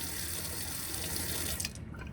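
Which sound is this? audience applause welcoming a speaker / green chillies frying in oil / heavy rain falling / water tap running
water tap running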